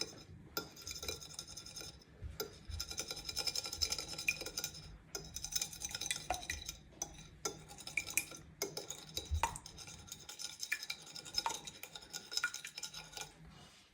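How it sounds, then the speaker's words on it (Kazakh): A fork whisks egg in a bowl, producing quick, continuous clinking and tapping of metal against the dish, close and fairly quiet, with brief pauses between bursts of stirring. "жұмыртқамызды араластырып аламыз"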